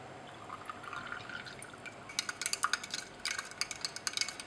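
A saturated sodium hydrogen carbonate solution in water is poured into a glass separating funnel in a lab. A quiet liquid trickle gives way to sharper drips and glassy ticks over the final two seconds.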